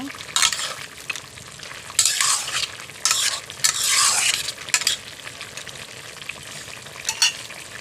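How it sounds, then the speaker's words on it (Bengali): Fried lentil dumplings simmer in a carrot curry broth, giving a steady bubbling sizzle with stirring scrapes and louder bursts, close and moderately loud, with no talking. "ঝোলটা দেখুন ফুটে উঠেছে আমি যে ভেজে রেখেছিলাম বড়িগুলো বড়িগুলো ছেড়ে দিচ্ছি আমি এটা একটু ফুটিয়ে নেব"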